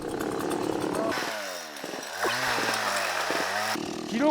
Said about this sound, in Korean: 전기톱이 말썽인가요?